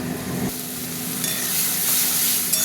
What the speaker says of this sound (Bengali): মশলাটা কষার জন্য। মশলাটা কষা হতে থাক।